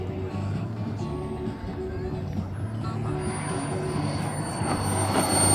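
An RC 2.1 meter F-86 model jet comes in to land at a flying field, its steady whooshing turbine roar holding under faint background voices and swelling a little louder near the end.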